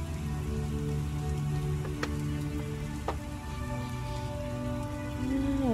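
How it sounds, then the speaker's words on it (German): Steady rain falls in The Witcher video game, a dense, even patter with no voices, while faint tonal game ambience sits underneath. "Es regnet schon wieder."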